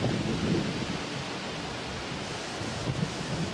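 Steady, dense rain pours down during a summer thunderstorm, with a broad wash of wind-driven hiss and low rumble rolling continuously and fairly loud throughout, no voices present.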